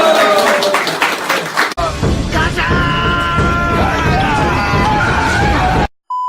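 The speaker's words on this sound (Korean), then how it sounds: "한번 소리도 질러가면서 박수 한번 크게 한번 들어보자" A party members' New Year gathering erupts in loud applause with yells and whoops, dense clapping filling the room for several seconds before cutting off abruptly.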